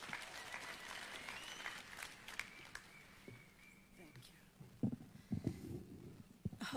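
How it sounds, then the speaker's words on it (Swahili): Crowd clapping at an outdoor public event in Wote, Makueni County, attended by the President, a faint, distant spread of applause that swells toward the end amid background voices. "Simumpigie makofi."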